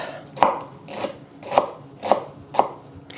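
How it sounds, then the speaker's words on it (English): A knife slices through choy sum Chinese greens on a cutting board in five evenly spaced crisp chops, close and clear, with no talking. "this one is called choy sum or yu choy. And I'm just gonna slice it up."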